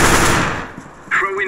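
Automatic AK-47 fire in a competitive first-person shooter round, a loud dense burst that tails off, followed by a brief tonal game sound.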